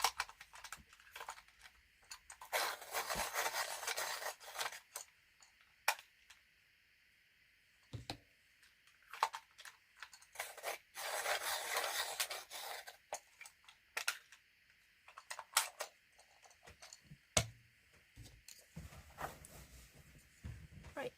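Coloured pencils are sharpened at close range in several rasping bursts of a few seconds each, separated by quiet pauses with small clicks and taps.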